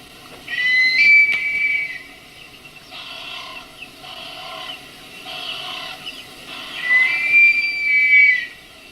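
Whistle-like calls of a Wahlberg's eagle play back from a recording, a long clear whistle first and then a rhythmic run of repeated shorter whistled notes, ending in another drawn-out phrase, loud and with no voices.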